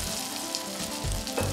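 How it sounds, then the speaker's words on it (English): Halloumi cakes fry in a hot oiled pan, giving a steady, close hiss of sizzling oil with light crackle throughout. "I can start frying off my halloumi cakes in a hot oiled pan"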